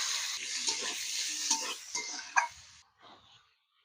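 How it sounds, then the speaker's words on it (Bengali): Chopped onion hits hot oil with cumin seeds and panch phoron, a loud bright sizzle with stirring scrapes that fades out after about three seconds. "এবার দিয়ে দেব পেঁয়াজ কুচনো।"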